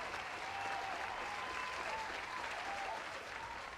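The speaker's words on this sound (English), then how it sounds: "She deserves a round of applause" An audience applauds steadily, a continuous wash of many hands clapping at a moderate, somewhat distant level, with faint voices or cheers mixed into the sound.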